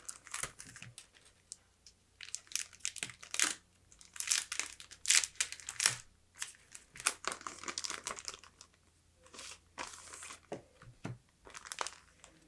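Plastic sticker mail packaging crinkles and tears as it is opened close up, bursts of crackling rustle coming and going over several seconds, with no speech.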